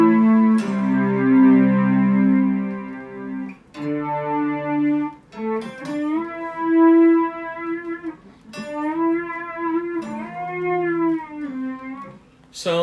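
Electric guitar through a Boss SY-200 synthesizer pedal on variation 20, giving a thick, distorted synth tone with chorus and echo as phrases of sustained and bent notes start and stop in bursts.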